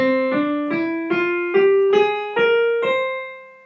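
A C Mixolydian flat 6 scale played as eight clear, evenly spaced notes stepping upward one at a time, each tone sustained and ringing alone, with no talking.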